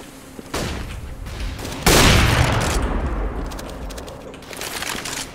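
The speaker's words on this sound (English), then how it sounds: "I'm throwing a flashbang." A flashbang grenade in Counter-Strike on the de_cache map: a short clatter, then a loud sudden burst near two seconds that rings and fades slowly over the following seconds.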